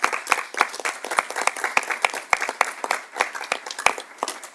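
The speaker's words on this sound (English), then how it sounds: "I'd like to end with an applause for them." Applause for first responders at a city council meeting, a small group clapping with sharp, distinct individual claps for a few seconds, fairly close and uneven.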